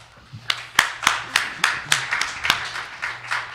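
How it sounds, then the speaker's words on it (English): An audience at a state Libertarian Party debate claps after a candidate's answer, roughly a dozen distinct, fairly close hand claps in a loose rhythm that thins out, with no talking over it. "I think that got a lot of applause"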